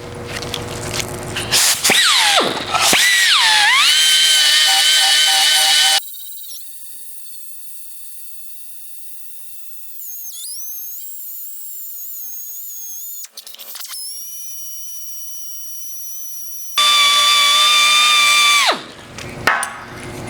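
An 80-grit abrasive on a grinder works down a metal weld in close, loud, whining bursts, with the tool spinning freely at a high pitch between passes.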